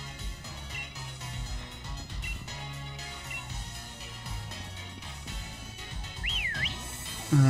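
A short rising and falling whistle from a Pokémon in the game Pokémon Sword rings out briefly near the end, faint above a steady bed of game music.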